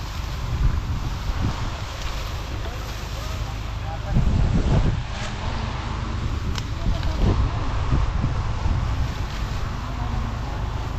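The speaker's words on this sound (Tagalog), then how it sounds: "Lakas pa man din ng hangin." Strong wind buffets the microphone over a rice paddy where rice plants are being sprayed for insects, a steady broadband roar with gusty surges around the middle, and people talk through it.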